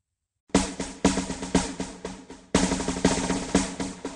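A drum plays in a children's musical instrument learning game: two short runs of strong, regular beats, each opening with a sharp accented hit, heard alone and close.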